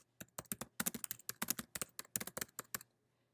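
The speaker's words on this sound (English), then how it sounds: "type in my touch base notes here" Rapid bursts of computer keyboard typing as notes are entered, close and fairly quiet, irregular clusters of keystrokes with brief pauses, no voices.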